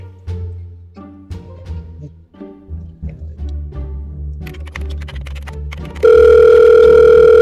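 A telephone in a Bengali crime drama gives a loud, steady electronic tone that starts abruptly near the end and holds without a break, after a stretch of background music and movement.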